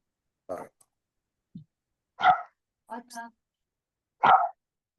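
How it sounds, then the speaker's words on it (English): A dog gives several separate short barks and yips, spaced out with silent gaps between them, fairly close and clear, at the end of a committee meeting. "dog saying goodbye"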